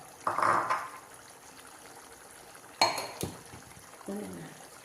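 Coconut milk and ground cashew paste poured and stirred into a vegetable stew in a kitchen pot, with clinks of a metal spoon against the vessel and brief liquid sounds in separate short bursts amid quiet stretches.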